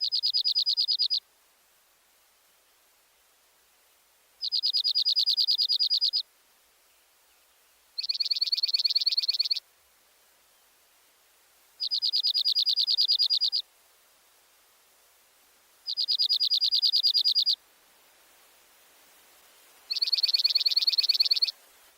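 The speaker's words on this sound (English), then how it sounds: "Listen again to the bell-like trill of the dark-eyed junco." Six bell-like trills of a dark-eyed junco, each lasting about a second and a half and evenly spaced every few seconds, clear and fairly close against a quiet background with slight pitch variation between them.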